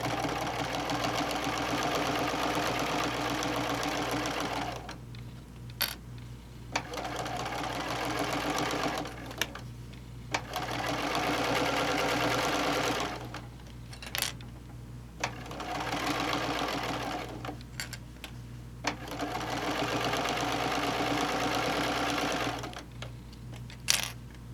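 A sewing machine stitches a fabric bowl cozy in steady, loud mechanical runs that pause several times as the presser foot lifts and the work pivots, with clicks between the bursts.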